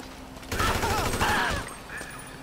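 Rapid gunfire in the video game Grand Theft Auto 5, a loud burst of overlapping shots lasting about a second, with someone shouting over it.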